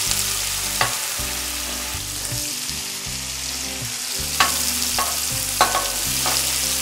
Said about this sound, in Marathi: आता ही फोडणी आहे ना ती आपल्याला चांगली परतून घ्यायची आहे.